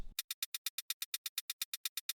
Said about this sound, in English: Just a regular shaker loop together with a shaker percussion hit.